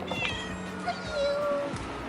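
A cat meows indoors in a dim room, a clear drawn-out call near the middle of a short stretch, with faint household background and no talk.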